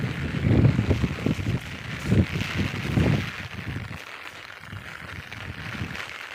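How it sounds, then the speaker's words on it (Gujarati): Gusty wind buffets the microphone in low rumbling bursts for the first few seconds in a farm field, then eases to a steadier, quieter rush. "વાયરો બહુ આવે છે"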